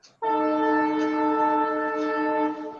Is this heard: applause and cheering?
no